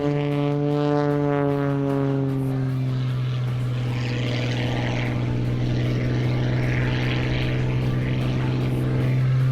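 An aerobatic propeller airplane performing rolls at the 2021 SUN 'n FUN Aerospace Expo, its engine a loud steady drone that slides downward in pitch as the aircraft passes, with a faint commentary voice underneath.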